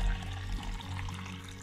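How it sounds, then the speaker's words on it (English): Water from a snow globe pours into a measuring cup, a short continuous gurgling splash with a low rumble, steady and close. "we're gonna pour it into this measuring cup to see how much is in there"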